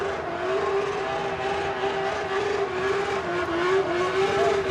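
Drift car at the Goodwood Festival of Speed Driftkhana, engine held at steady high revs with the throttle pinned as it swings side to side, a loud continuous droning buzz with slight pitch wobbles throughout.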